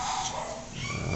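A neighbor's dog gives a brief, fairly loud bark or yelp, heard from a distance against a steady background noise.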